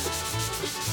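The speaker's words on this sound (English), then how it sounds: "I'm on my at least 5th or 6th round of sanding between coats. I'm using 400 wet and dry" Sandpaper rubs over a lacquered wooden surface, 400-grit wet and dry paper worked between coats, a steady close scratchy swishing in rhythmic back-and-forth strokes with no talk.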